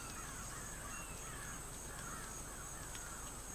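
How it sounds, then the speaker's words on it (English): Birds caw outdoors, several faint repeated calls spaced through a constant steady background hiss, somewhat distant and with no talking. "The birds are wilding out again."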